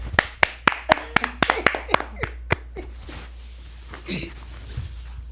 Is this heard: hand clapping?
yes